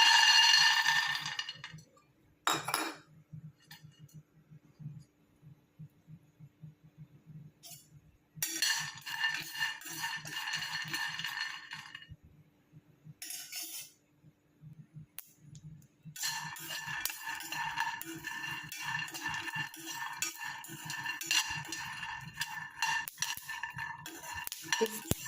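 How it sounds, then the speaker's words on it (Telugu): Peanuts roasting in a pan, with a quiet continuous sizzle and rattle under repeated bursts of scraping and clinking as they are stirred, the bursts broken by short pauses. "ముందుగా పల్లీలను అయితే వేయించుకుందాం"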